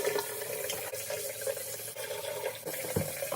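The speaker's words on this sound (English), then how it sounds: "wash and rinse the jars thoroughly so they are clean of contaminants" Water running from a tap while glass jars are washed and rinsed, a steady close splashing stream with occasional clinks and small shifts in flow.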